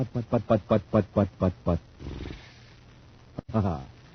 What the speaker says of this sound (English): here's my idea of how a cosmic surface car sounds with just ordinary fuel in its tank